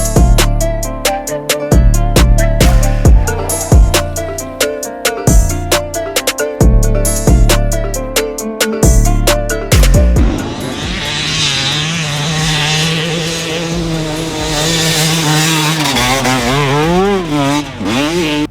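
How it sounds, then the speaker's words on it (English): 2022 Yamaha YZ250 two-stroke motocross bike ridden on a track at Glen Helen, engine revving hard in sharp bursts through gear changes, then passing and fading with a wavering drone. "riding the 2022 YZ250 Two Stroke from Yamaha"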